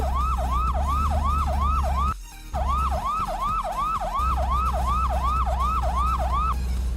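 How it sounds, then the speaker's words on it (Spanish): In the truck-driving game Haulin, a truck horn sounds as a police-style wailing siren. It repeats in a steady, rapid rising-and-falling cycle, loud and continuous, with low engine rumble underneath and a brief dip partway through. "suena como una sirena de policía"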